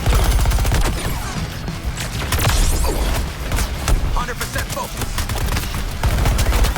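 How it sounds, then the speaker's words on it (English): A video game barrage of artillery and gunfire, with dense rapid bursts and booms rumbling continuously and loudly throughout while a voice briefly speaks over the din. "Suppress the Earthlings with artillery."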